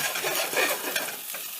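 Monte Cristo sandwich frying in butter and oil as the butter browns, an even bright sizzle with light shifting crackle, close and without talk.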